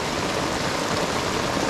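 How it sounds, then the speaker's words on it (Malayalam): Heavy rain falling outdoors beside a hill stream during fish-trap fishing, a constant loud broadband hiss and patter with no pauses and no talking. "നല്ല മഴയാണ്."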